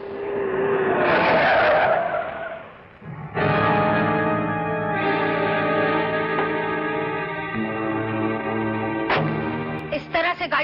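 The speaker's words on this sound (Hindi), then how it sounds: "गाड़ी रोकने का क्या मतलब है?" A car skids to a stop with a loud, drawn-out tire screech, followed by a steady engine drone and a few brief knocks near the end.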